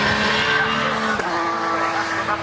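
Touring cars in a British Touring Car Championship race roar loudly with overlapping engine notes, pitch dipping as a gear change or passing car cuts through midway.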